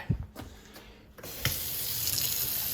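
A bathroom sink filling from a running faucet during a leak test of a newly made flange tailpiece and basket strainer, a steady close rush of water after a few brief clunks.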